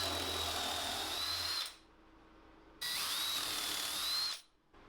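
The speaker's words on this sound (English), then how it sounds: "I can get the holes for them drilled with a pilot drill and a countersunk bit" A power drill with a countersink bit whines at high speed in two bursts, drilling pilot holes for a shelf, stopping briefly between them, close and loud with no talking.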